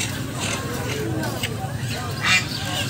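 Ducks at a busy poultry market (haat) in Taktarchala, Mirzapur, Tangail, give several short, raspy quacks spread through a steady crowd murmur, with voices talking nearby.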